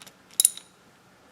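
A ratchet clicks on the intake manifold bolts of a 3900 LZ9 engine, giving a short burst of sharp metallic clicks, a pause, then another burst at the end, close and fairly quiet with no talking.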